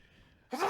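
A quiet breathy lead-in followed by a single sharp, abrupt sneeze, close and brief.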